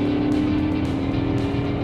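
A Dodge Challenger R/T Shaker engine with a 7-speed transmission holds a loud, steady, deep droning note with a rough throb, close and continuous, with no clear gear change.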